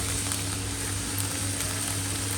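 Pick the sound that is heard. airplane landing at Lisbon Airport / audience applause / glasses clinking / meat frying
meat frying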